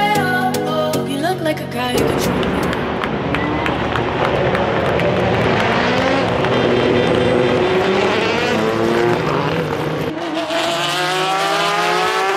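Race cars roar past through the old town streets at Le Mans during the 24-hour race weekend, loud engine notes rising and falling as several cars pass near, with a crowd murmur beneath.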